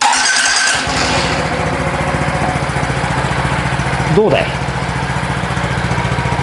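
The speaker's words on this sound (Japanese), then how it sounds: "こんな締め切った中でエンジンかけても大丈夫だぜ。" Honda DAX125 motorcycle engine starting up indoors in an enclosed space, then settling into a steady, close, pulsing idle, with a person speaking briefly over it.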